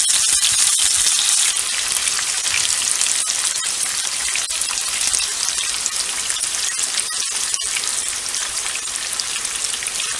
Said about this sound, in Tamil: ஊற வச்சுருக்கிற மீன் துண்டுகளை சிறிதளவு எண்ணெய் ஊற்றி நன்றாக பொரித்து